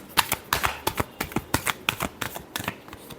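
Tarot cards shuffled in a row of crisp riffling bursts, about a dozen quick papery snaps in a steady rhythm, close and clear with no talking.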